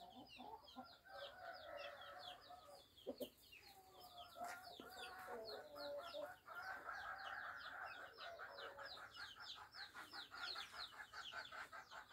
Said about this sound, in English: On the left hand side is where the chickens sleep at night.